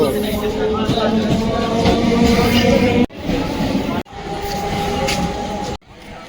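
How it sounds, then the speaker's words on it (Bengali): Steady rumble and hiss of a train idling at a platform, with crowd murmur and talk over it, broken by a couple of sharp drops in sound. "এবারে ট্রেনটা দাঁড়িয়ে রয়েছে এবার ছেড়ে যাবে"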